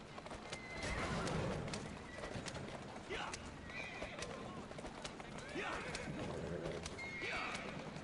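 Horse in the video game Assassin's Creed Syndicate, with repeated whinnies and clip-clopping hooves over a busy game soundscape, while a person talks intermittently.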